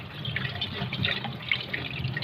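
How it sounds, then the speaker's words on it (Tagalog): Tap water runs steadily over a kettle being washed at a sink, with irregular splashes and drips rising above the constant flow; close and moderately loud, with no talking. "hugasan ko muna yung takure kasi parang madumi yung ano"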